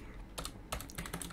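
Package names are typed on a computer keyboard in two or three short bursts of crisp, close keystrokes against a quiet background.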